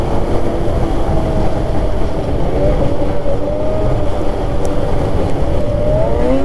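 A Starfire 862cc stroker snowmobile engine pulls hard along a trail in Canada, a loud continuous roar up close, with the pitch climbing steadily toward the end as the sled accelerates.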